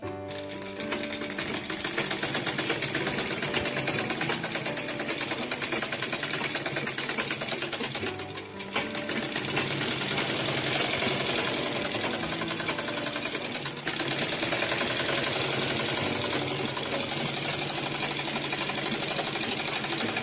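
A sewing machine stitches the seams of a girl's three-piece step skirt, running in a fast, steady mechanical chatter close up, with one brief pause before it carries on.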